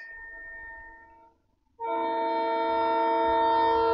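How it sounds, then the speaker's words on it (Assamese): A train approaches sounding its horn, a steady harmonic blast that pauses briefly and then returns louder and sustained, with low rumbling underneath. "এইফালে ট্ৰেইনখন আহিছে আৰু চাউণ্ডটো শুনিছে"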